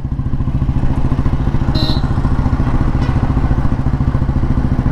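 A 1957 Royal Enfield G2 Bullet vintage motorcycle engine runs with a loud, close, steady low thumping beat throughout and no voices.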